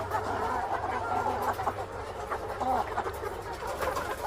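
Chickens, about 100-day-old birds, fill a dark poultry house with continuous overlapping clucks and soft chirps at close range, a low steady hum underneath.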